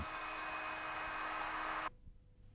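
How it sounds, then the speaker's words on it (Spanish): A heat gun blowing hot air to straighten bamboo strips for a fishing rod: a steady, close, airy whine and rush that cuts off abruptly near the end, leaving a quiet room with faint handling sounds. "Rafael endereza los nudos de las tiras aplicando calor con una pistola termodecapante"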